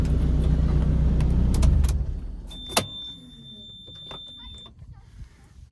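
A 2005 Lotus Elise sports car's loud engine rumble cuts out and falls away, leaving a quiet interior with a few clicks and a faint high electronic tone.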